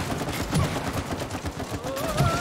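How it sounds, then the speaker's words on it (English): Gunfire in the video game It Takes Two comes as bursts of rapid, fairly loud shots, with other game effects behind them and no talking. "You need to shoot these ones on the floor, Kevin."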